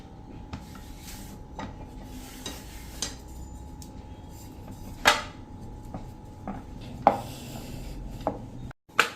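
A rolling pin works paratha dough on a board, making soft, steady rubbing strokes broken by occasional sharper wooden knocks and taps, close by with no talking.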